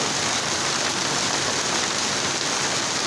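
Steady rain pours in the Murree hills, a dense, even hiss of drops hitting surfaces, loud and constant without a break.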